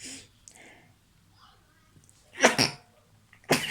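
A sneeze bursts out loudly after some quiet sniffing, followed a second later by another sharp sneeze, close to the listener.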